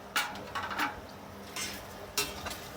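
Biryani stirred in a pot on the stove: a few scraping clinks of a spoon against the metal, in short bursts with pauses between, close and moderately loud over a faint background sizzle.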